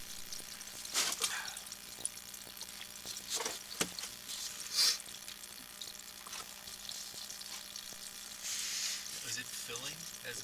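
Water runs steadily through a pipe with a hissing, splashing flow and occasional drips and knocks, moderately close, with a voice briefly heard in the background.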